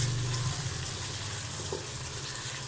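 Masala sizzles steadily in a pan while being roasted for an okra (bhindi) fry, a continuous close hiss with no talking.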